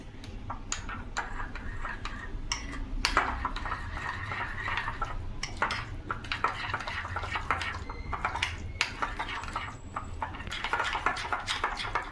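Lollipop masala stirred into tandoori chicken marinade in a bowl, heard as steady close squelching and wet scraping with scattered small clicks and taps throughout.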